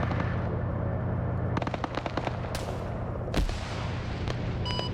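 Rapid bursts of gunfire and sharp shots crackle close and loud in a tactical military shooter game during a hostage rescue training operation, aimed at an enemy turret, with scattered pops and one heavy blast over a constant low rumble.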